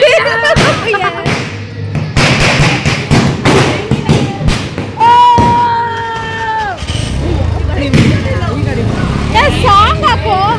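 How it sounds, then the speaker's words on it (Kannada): Firecrackers bursting during a New Year celebration, with repeated loud thumps and cracks amid a noisy crowd, people talking and cheering over the bangs and some music. "ನೋಡಿ ಗಾಯ್ಸ್, ಅಲ್ಲಿ ಪಟಾಕಿ ಹೊಡಿತೈತೆ"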